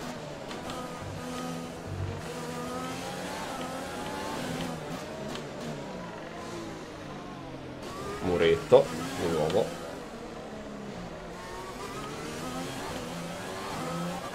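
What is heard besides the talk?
race car engine revving in the video game F1 2020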